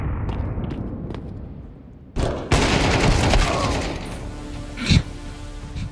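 A grenade blast in Counter-Strike 2 gameplay: brief sharp shots early, then a loud broadband burst that sustains and trails off, with another sharp boom near the end.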